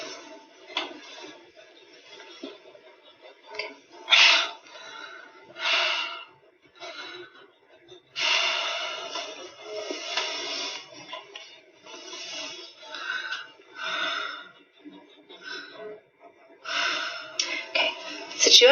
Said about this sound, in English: Take some deep breaths in and out of your mouth.